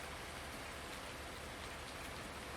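Steady rain in the video game Farming Simulator 19, on a Michigan map, a dense, even hiss of falling drops with no voices, continuous and moderately loud throughout.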